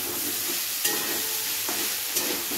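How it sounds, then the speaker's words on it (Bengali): Ginger paste gets stirred with potatoes in a hot pan for a vegetarian chickpea dish: an even, close sizzle broken by two distinct scraping spatula strokes, with no voices. "আদা বাটাটা দেওয়ার পরে আলুর সাথে একটু নেড়ে নিচ্ছি"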